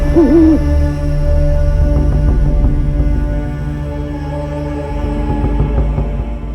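A cartoon owl monk in a Malayalam children's story gives a voiced, warbling hoot, then a run of sustained tonal hoots over a steady musical background; the hoots sound performed by a voice rather than a real bird.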